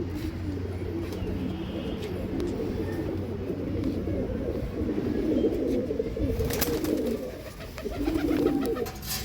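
Breeding pigeons in a loft at Phaltan give a continuous chorus of low, overlapping coos close by, swelling in bursts toward the end.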